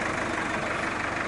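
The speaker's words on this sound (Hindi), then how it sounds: "बुलाओ भाई जेसीबी चलाओ जेसीबी" A JCB excavator's diesel engine runs steadily nearby, a loud continuous low rumble and drone with no pauses or talk over it.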